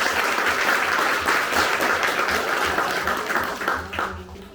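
A church congregation at a Catholic retreat mass applauds loudly and continuously, a dense, steady wash of clapping that thins slightly toward the end, with faint voices mixed in.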